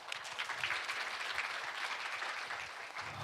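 Conference attendees in Seoul give a lecturer a round of applause, a steady wash of many hands clapping, fairly soft and distant, with no speech over it.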